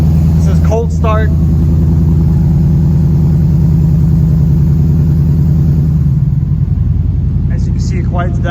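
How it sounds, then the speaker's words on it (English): A 2008 Lexus IS F V8 with PPE headers and a Joe Z aftermarket exhaust on cold start, a loud, deep, steady rumbling idle that drops lower after six seconds, with brief speech at the start and end. "This is cold start."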